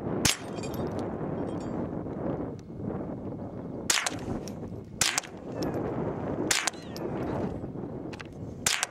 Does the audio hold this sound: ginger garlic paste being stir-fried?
no